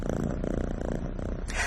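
A kitten purrs close up in a soft, steady rhythmic rumble that continues evenly throughout with no voices.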